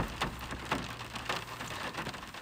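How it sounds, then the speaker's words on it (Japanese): Rain falls steadily on a surface, a soft continuous wash with a few louder drop hits spaced through it, heard from a vehicle on a spring day. "あいにくの雨でした。"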